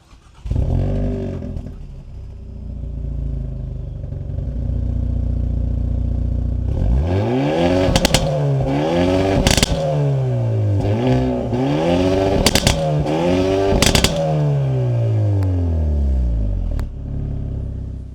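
A 2025 Hyundai Elantra N fires up, then revs repeatedly in sharp rising and falling sweeps, with loud crackling backfire pops between revs, close and alone without talk.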